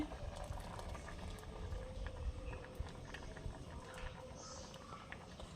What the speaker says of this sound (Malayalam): ഒന്ന് തിളക്കട്ടെ ആദ്യം